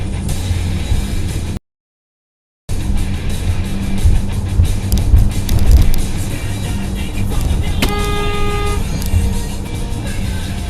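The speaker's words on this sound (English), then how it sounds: "Oh, you got honked at for stopping." A car horn blares in New Jersey street traffic over a steady rumble of engines and passing vehicles, with a sharp, loud honk standing out near the end.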